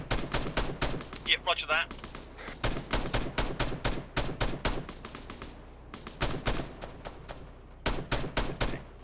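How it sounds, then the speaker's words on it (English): Sustained suppressive gunfire in Arma 3, dense rapid bursts of loud shots in quick succession with only brief gaps, a short radio-style voice reply heard under the shooting. "James, if you can provide suppressive fire."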